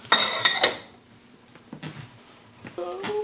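A lid set down on a clay pot during cooking of chicken clay pot rice, giving a few close, sharp ceramic clinks and scrapes in quick succession, followed by quieter kitchen rattles.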